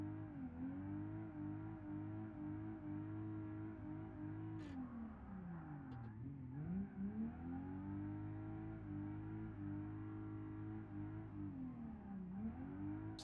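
A car engine in the BeamNG driving game drones steadily while drifting, its pitch dipping and rising with throttle changes over a long continuous stretch, fairly quiet with no talk.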